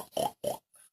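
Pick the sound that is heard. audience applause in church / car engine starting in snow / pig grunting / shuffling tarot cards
pig grunting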